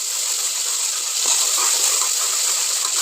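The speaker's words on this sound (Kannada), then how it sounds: "ಇವಾಗ ಈ ಮಸಾಲೆ ಆ್ಯಡ್ ಮಾಡ್ತೀನಿ. ಮಸಾಲೆ ಸ್ವಲ್ಪ ಫ್ರೈ ಮಾಡ್ಕೊಂಡ್ಬಿಡೋಣ." Ground paste of coriander leaves, tomato and onion frying in a pan for a sprouts sambar: a loud, continuous close hiss and sizzle with faint bubbling crackles, no talk.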